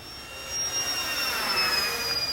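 A Durafly Corsair RC model airplane on a 3-cell battery whines steadily overhead, a thin high-pitched motor drone that swells slightly as it passes, with no talking.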